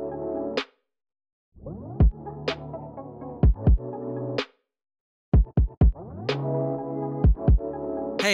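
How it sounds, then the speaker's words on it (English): Record-style tape stop and tape start effect made in Logic Pro, with music chopped into bursts that pitch down and drag to a halt, then spin back up to speed, between short silent gaps. "how you can make that classic record speed-up or slow-down effect in Logic Pro 10"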